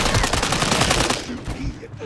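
Rapid automatic gunfire from the Call of Duty video game rattles in a dense, loud burst of closely spaced shots, then thins into scattered, quieter shots and effects toward the end.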